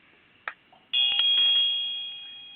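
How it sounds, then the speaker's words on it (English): A bell is rung once during a pagan ritual reading, giving a clear bright strike that rings on with a steady sustained tone and slowly fades, with a couple of softer taps before it. "Now, Field rings the bell,"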